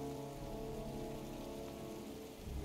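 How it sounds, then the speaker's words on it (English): Steady heavy rainfall pours down in the video game Heavy Rain (2010), a dense continuous hiss of drops on surfaces with no voices over it. "It's raining. I'm standing outside getting soaked."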